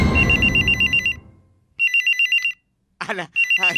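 An old-style landline telephone bell rings in repeated double bursts inside a home, pausing between rings, with a short spoken interjection between two of the rings.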